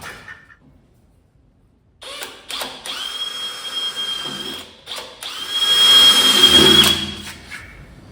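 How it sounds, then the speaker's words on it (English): A power drill bores holes in metal on a 1970 GMC 2500 truck, with several whining bursts of varying length starting after a quiet moment, the last one louder and grinding. "Drill some holes."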